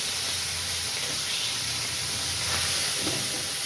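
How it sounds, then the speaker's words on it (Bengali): Steady loud sizzling and hissing of fish pieces frying in hot oil, continuous and close, with no voices. "ভাজা ছেড়ে দিচ্ছি, ভাজতে দিয়ে দিচ্ছি।"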